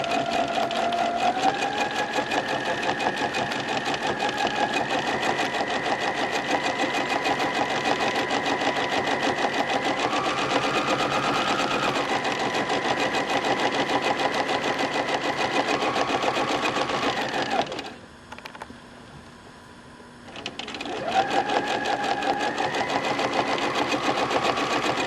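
A sewing machine stitches feathers in free motion quilting, its motor whirring steadily and close for most of the run, with a brief pause near the end before stitching resumes.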